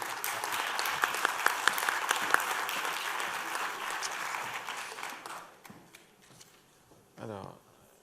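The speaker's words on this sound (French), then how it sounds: "On peut vous applaudir à nouveau" Audience applause at a French conference on autonomy and care homes, a dense crowd clapping steadily with a few sharper claps, fading out after about five seconds, followed by a brief voice near the end.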